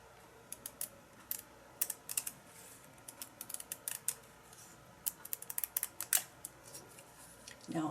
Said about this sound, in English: And I've got out my fabric scissors.